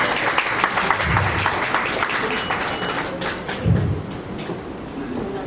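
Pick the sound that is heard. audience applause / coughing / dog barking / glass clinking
audience applause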